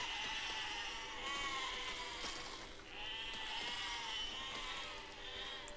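Sheep bleat repeatedly in the video game Besiege, several overlapping wavering calls at moderate volume over a steady ambient game hum, with no talk.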